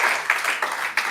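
An audience at a live wellness sales session claps in a short burst, with a dense patter of hands and a few stronger accents spaced through it.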